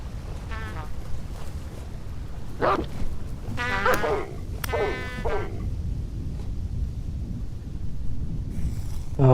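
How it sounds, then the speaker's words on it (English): Wolves in the Vintage Story survival video game give several short howling and yelping calls in bursts over a steady low rumble of game ambience, moderately close, with no talking. "Oh, wolves."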